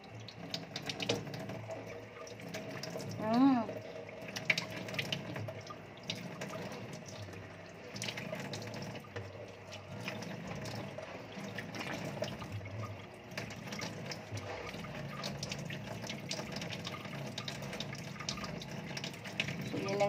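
Tap water runs steadily into a sink while a face is being washed, a continuous splashing stream with small bumps in level and a faint voice briefly underneath.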